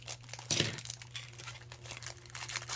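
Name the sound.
cutting a package open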